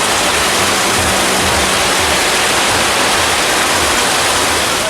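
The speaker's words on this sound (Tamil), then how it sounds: "காற்றுடன் கூடிய பலத்த மழை பெய்தது" Heavy rain driven by wind, with water rushing across roads, forms a loud, steady, dense roar of broadband wash that stays unbroken throughout, with no voices.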